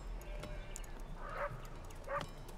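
A dog in the video game The Great Whale Road gives a few short, faint barks and yips over low background noise.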